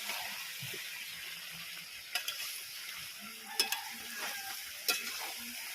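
Chicken liver fries in a pan while being stirred, a steady soft sizzle with a few sharp scrapes and clinks of the spoon against the pan.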